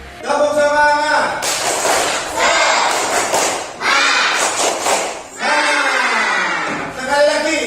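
A classroom of pupils performs a tepuk semangat, a rhythmic group clapping chant, with loud bursts of claps and shouted voices in patterned sections, close and energetic.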